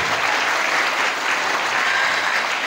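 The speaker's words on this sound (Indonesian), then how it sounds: "Tepuk tangan untuk kita semuanya" Dense, even applause from parents at a parenting seminar in an Islamic boarding school hall in Banten, a continuous wash of many hands clapping with no breaks or voices over it.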